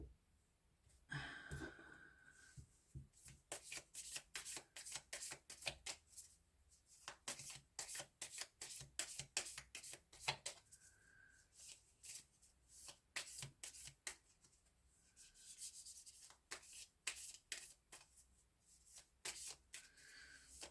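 Tarot cards shuffled by hand in a long run of rapid riffling and rubbing bursts, close and fairly quiet, with brief pauses between passes and no talking.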